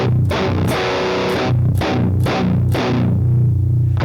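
A metal electric guitar with a heavily distorted tone plays chugging riffs with sharp, percussive palm-muted attacks and short sustained chords, loud and close, with no voices.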